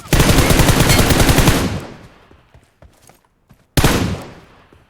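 Automatic rifle fire in the shooter game PUBG Mobile: a loud, dense burst of rapid shots lasting nearly two seconds, a short lull of faint echoes, then a second heavy burst.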